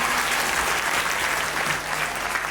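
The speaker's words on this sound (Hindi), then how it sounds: "तालियां हो जाए" Steady, dense audience applause at an annual day school celebration, loud and continuous with no clear break, a faint crowd murmur running underneath.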